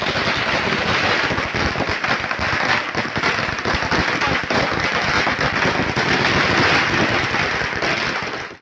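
Firecrackers burst in a dense, continuous loud crackle at a street welcome celebration for a bank election candidate in Karwar, with rapid pops filling the whole stretch without pause.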